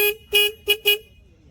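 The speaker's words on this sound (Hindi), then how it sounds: "हॉर्न एक बारी मैं आपको सुनाऊँ तो" A Triumph Speed 400 motorcycle horn gives four short, bright beeps in quick succession, loud and close, then falls silent.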